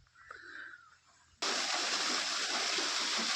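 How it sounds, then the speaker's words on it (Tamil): Bore well water gushes and splashes hard and steadily into an open well in rural Tamil Nadu. It starts suddenly after a quiet moment and goes on loud and close. "கேணியில் பார்த்திங்கன்னா போர்லேருந்து தண்ணி வந்து கேணியில் விட்டு தான் இறங்குறாங்க"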